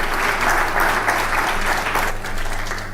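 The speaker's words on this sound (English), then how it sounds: "round of applause for the host president" An audience at a presidents' summit gives a sustained round of applause for the host president, dense and loud throughout, easing a little near the end.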